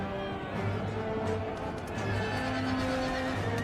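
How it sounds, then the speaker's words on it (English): Horses neigh during a cavalry charge in Empire: Total War, with faint whinnies and hoof clatter set within a dense, steady din of distant battle. "Their horses are trying another charge."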